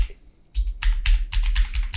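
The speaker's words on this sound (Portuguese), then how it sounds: "E agora eu vou digitar o link da API aberta do GitHub" Brisk typing on a computer keyboard as a web address is entered, beginning after a brief pause, then a loud, close, fast run of clattering keystrokes with no voices.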